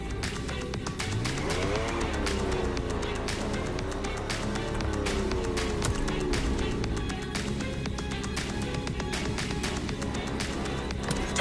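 A Porsche engine drives in The Crew Motorfest, a loud, steady roar whose pitch rises and falls with gear changes and throttle, continuous throughout with no voices.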